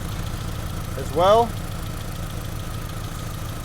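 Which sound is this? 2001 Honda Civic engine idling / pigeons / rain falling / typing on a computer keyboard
2001 Honda Civic engine idling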